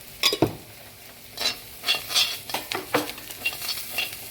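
Onion, garlic, round chilies and curry leaves fry in a pan, with a utensil stirring and scraping through them over a soft sizzle. Close, irregular clinks and scrapes are heard, with no talking.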